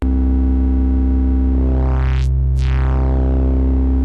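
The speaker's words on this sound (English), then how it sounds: "Got ring mod for ring mod tones. It's always a bit harsh." A harsh, buzzing ring-modulated tone from a Roland SH-4d synthesizer with metallic clangorous overtones, sweeping down and then back up in pitch, sustained and loud.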